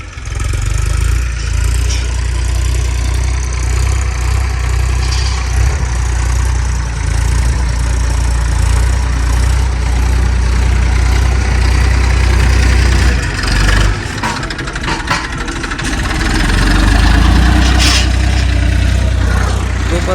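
Tractor engine idling on a farm field, a steady low rumbling drone running continuously and fairly close throughout, with faint variations but no talk.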